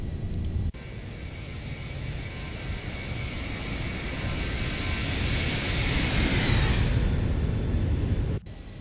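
Sustained roar and whine of the Zibo Boeing 737 jet engines in the X-Plane 12 flight simulator during climb-out, a steady loud drone with a high tonal whine that swells before cutting off abruptly.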